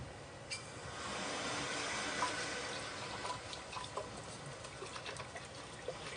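Water runs steadily from a tap, a soft continuous hiss and trickle heard alone at low volume for several seconds.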